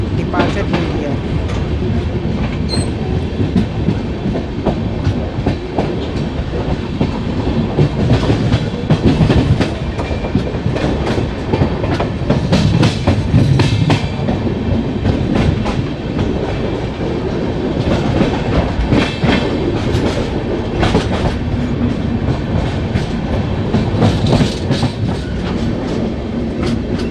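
The Samta Express runs at speed after leaving Muniguda station in India, a loud steady rumble with rhythmic clickety-clack of wheels over rail joints filling the whole stretch, with a voice talking over it.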